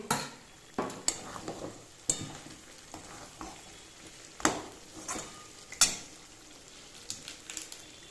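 Chopped green chillies go into mutton frying in its released oil for mutton kosha, a soft sizzle under repeated scraping knocks of a spatula against the pan as it is stirred.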